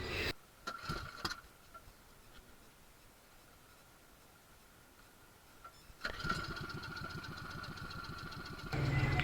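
A small boat engine on a new unit sputters through a few short cranking bursts, goes quiet for several seconds, then catches and runs with a steady mid-pitched drone that grows louder near the end.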